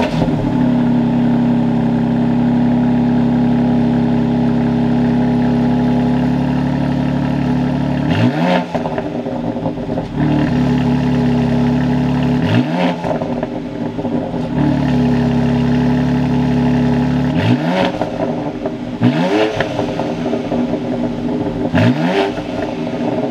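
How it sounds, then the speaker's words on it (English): A BMW X3M Competition engine idles with a steady hum after startup in Sport Plus mode, then blips into six sharp revs, each rising and falling back quickly. "I'm gonna go ahead and give you a startup, put in Sport Plus, and give it a little bit of revs."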